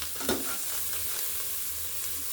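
Vegetable pulao with chilli powder and garam masala sizzling in a pan as it is stirred, a steady soft hiss with a brief scrape near the start, close and fairly quiet.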